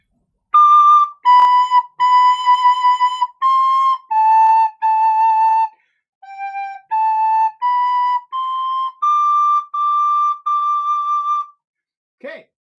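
Recorder playing the tune Lightly Row, a clear, pure-toned melody of about a dozen separate notes with a short rest midway, close and alone, ending with a faint breathy sound.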